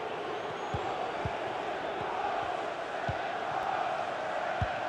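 A stadium crowd roars in FIFA 22 during a Manchester City vs Manchester United Europa League match, a steady dense wash of chanting and noise with occasional ball thumps, under commentary.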